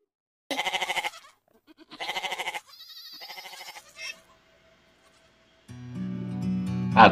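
A goat bleats in a Hindi alphabet song: several short, wavering, close bleats in a row, a pause, then a sustained musical tone.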